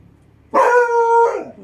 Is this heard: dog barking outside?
yes